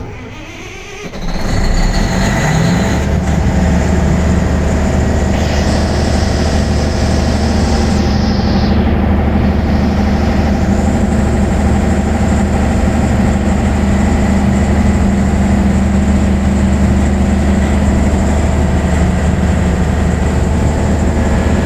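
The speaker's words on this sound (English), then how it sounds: "as you can hear the sound of your engine, it is changing" An engine starts up and settles into a loud, steady running drone, its tone shifting slightly partway through before holding steady again.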